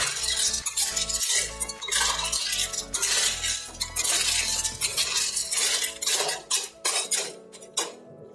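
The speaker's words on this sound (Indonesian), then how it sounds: "kita aduk kembali." Spoon stirring snail stew seasoned with salt, pepper and broth powder in a cooking pot: steady scraping and metallic clinks against the pot, loud and close, with no talk.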